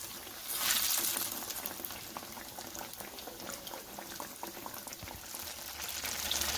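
Banana fritters (pazhampori) bubble and crackle in hot oil, giving a steady, dense, close sizzle that holds throughout without pause.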